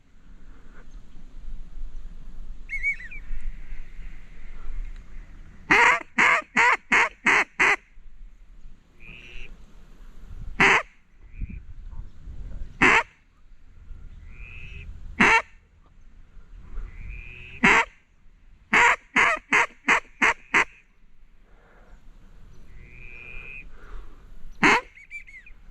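Mallards and black ducks over flooded timber, heard as bursts of rapid, loud quacking and calling in runs of several notes, with scattered single calls between, fairly close against a quiet wet-woods background.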